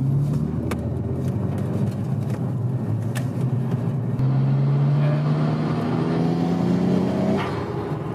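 A tuned Nissan Skyline GTR R33 is driven hard, its engine note heard from inside the car as a continuous loud rumble with rising, sweeping revs through the gears.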